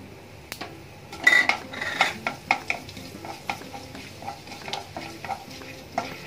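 Cinnamon and fennel seeds frying in hot oil in a pan, a steady soft sizzle broken by a run of light utensil stirs and scrapes against the metal, close by, with no voices.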